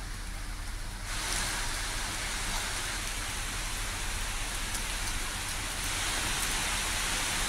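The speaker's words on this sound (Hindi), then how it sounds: "तो झमाझम बारिश पहले तो राहत बनकर आई" Heavy monsoon downpour, a dense, even hiss of rain that thickens sharply after the first second and then pours on steadily, with no voices.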